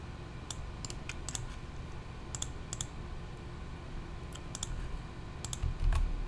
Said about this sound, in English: We're gonna type username as Natas 14, and the password.